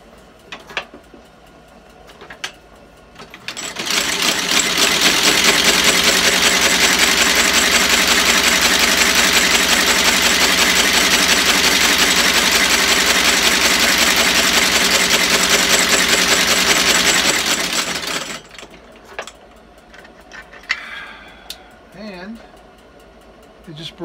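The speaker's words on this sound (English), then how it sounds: "So this is a Landis outsole stitcher. Basically, it's going to stitch the welt and the sole together." A Landis outsole stitcher sews a shoe welt to the sole in a long, steady, loud mechanical rattle of rapid rhythmic clacking, with quieter handling clicks before and after.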